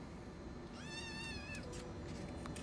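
A soaked pet cat lets out a long, wavering, plaintive meow up close, with faint background noise and clattering around it.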